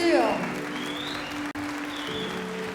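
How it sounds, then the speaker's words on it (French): Audience applause at a boxing event after the second round, a steady wash of clapping with voices over it throughout. "On peut les applaudir."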